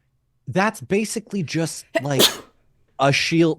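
A single sneeze bursts out midway through a casual conversation between people, set against otherwise steady talking.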